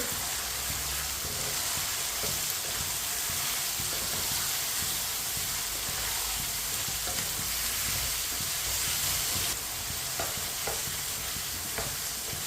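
Finely chopped tomatoes and green chillies frying for matar pulao, a steady close sizzle and hiss in the pan with occasional stirring scrapes, running continuously with no talk.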